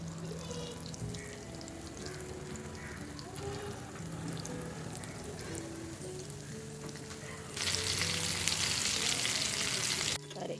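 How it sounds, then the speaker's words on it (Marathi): Mackerel coated in batter or flour frying in hot oil, a continuous crackling sizzle with a few clinks of utensils, growing louder and harsher near the end as more fish hits the oil; no talking. "आता हे छान मस्त कोट करायचं आणि मग हे तळायला सोडायचं आहे"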